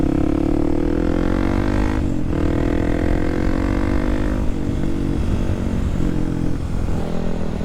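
A Kawasaki 300 supermoto motorcycle cruises along a remote road, its engine droning steadily and loudly with a brief dip and recovery in revs, plus wind rush, and no talk over it.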